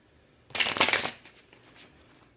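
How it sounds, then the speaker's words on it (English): Tarot cards are shuffled in one quick riffling burst lasting about half a second. It is close and crisp against an otherwise quiet room, followed by faint handling noises. "we're going to shuffle 3 times"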